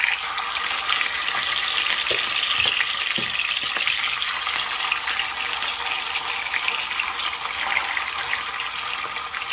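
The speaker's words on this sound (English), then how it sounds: "I'm going to start frying the fish." Fish fries in a pan with a steady, bright sizzle and crackle throughout, continuous and close, with a few faint knocks underneath.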